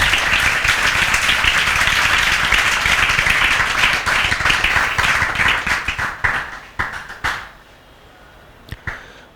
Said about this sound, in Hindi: लवेश अग्रवाल के लिए जोरदार तालियां